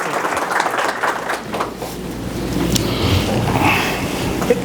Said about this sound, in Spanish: Con un fuerte aplauso al doctor José Ernesto Flete Morillo.